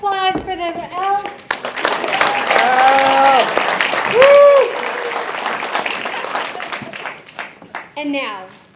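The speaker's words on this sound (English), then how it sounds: "And one more round of applause for the elves." A theater audience claps and cheers steadily for several seconds for a Miracle on 34th Street stage show, with children's voices and a few shouts rising over the applause.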